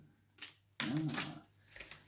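Tarot cards being shuffled by hand: a few quick papery riffles and slaps, one louder burst in the middle and a softer one near the end, fairly close with faint background.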